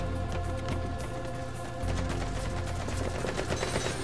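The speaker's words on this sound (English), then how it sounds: "Somebody was near me shooting somewhere." Gunfire in the online mode of the video game Metal Gear Solid 5, a steady, dense spray of automatic shots running for about four seconds over a loud game soundscape.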